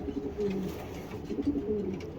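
Racing pigeons coo in a few soft, low throaty phrases, fairly close and steady over quiet background.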